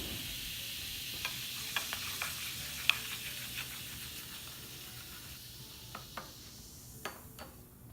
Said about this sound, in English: mixing together our baking soda and our vinegar. So it's going to form a volcanic reaction.